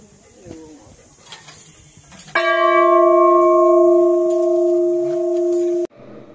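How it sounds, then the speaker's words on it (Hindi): A large temple bell at the Mata Manila temple is struck once and rings out loud and close with a sustained, steady tone for about three seconds before being cut off; birds chirp faintly beforehand. "घंटी बजाओ,"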